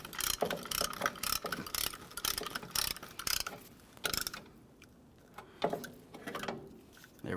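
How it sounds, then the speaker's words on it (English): A caliper compression tool ratchets as it presses the pistons into a Ford Ranger brake caliper, giving a rapid run of close, sharp clicks followed by a few slower, separate clicks. "Let's use a caliper compression tool here."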